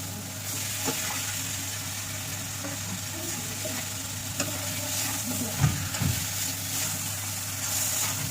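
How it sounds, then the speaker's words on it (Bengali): Pieces of katla fish sizzling in hot oil in a pan with Kashmiri red chilli, a steady even frying hiss with a few soft clinks from stirring near the end, no talking. "এবার মাছটা দিয়ে দিলাম"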